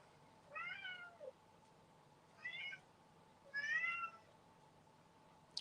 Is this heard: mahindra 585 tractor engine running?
no